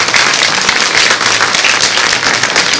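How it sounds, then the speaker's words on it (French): An audience at a Cosgeek 2022 conference applauds its guests, a brief, dense burst of clapping from a crowd, loud and continuous throughout. "Vous pouvez applaudir vos invités"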